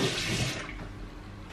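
A household water tap is turned on and runs, a steady broadband gush of water that is loudest at first and then settles into a softer, continuous flow.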